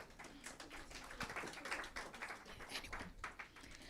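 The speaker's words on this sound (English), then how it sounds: "Round of applause, please." A conference audience gives a round of applause for a speaker, an even, moderately distant patter of many hands clapping throughout.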